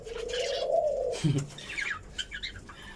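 Pet budgerigars and cockatiels call from a cage while eating egg food, giving a close, rising cooing call followed by scattered bright chirps and short tweets, with no talking.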